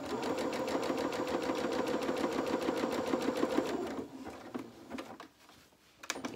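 A sewing machine runs a zigzag stitch through fabric for boxer shorts, a fast, even mechanical whir-and-tap for about four seconds. It then stops, leaving faint handling noises.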